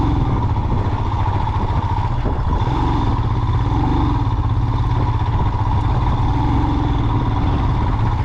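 A 410cc motorcycle runs continuously on a rough mountain road, its engine thrumming loud and steady close to the rider, with a constant low rumble and a clattery texture and no talking.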